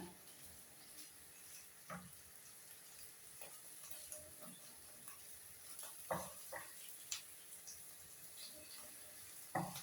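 Dried fish frying in a pan as the pieces are flipped to the other side: a faint, steady sizzle broken by occasional light clicks and taps of a utensil.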